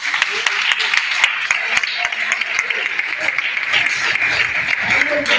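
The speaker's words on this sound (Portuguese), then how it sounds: "Vamos ver as palmas." A church congregation claps in a steady rhythm for the worship group, with sharp, evenly spaced hand claps ringing through a busy, reverberant room over a constant murmur of other sound.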